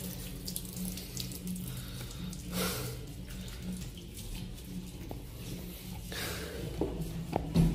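Water runs steadily from a tap while someone washes their hair, a continuous close splashing rush with small shifts as the stream is broken up.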